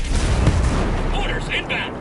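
Grenade blast and gunfire in a PS5 shooter, a heavy broadband boom near the start followed by continuous battle noise with brief higher tones near the end, loud throughout.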